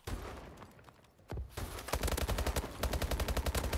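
SN6 submachine gun firing in a video game: a few scattered shots, then sustained rapid bursts of fast, evenly spaced gunfire, loud and close, with a brief pause between the bursts.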